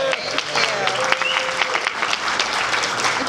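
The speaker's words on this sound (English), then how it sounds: "big round of applause" Audience applause for Assemblywoman Lisa Calderon rings out as steady, crisp clapping with scattered louder claps, while voices and a few whoops carry over it.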